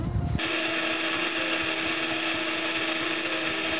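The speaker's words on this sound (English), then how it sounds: "So I'm gonna drill a hole in the boat" A power drill bores a hole into a boat hull for electrical wiring, its motor cutting in abruptly and holding a loud, steady whine until the end, with no talking.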